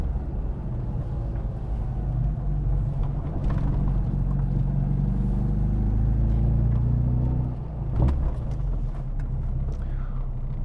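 Idling engine of a JET Motors remastered classic Mini with an oversized US fuel tank, a low steady rumble close by, with a brief surge and a few knocks around the middle.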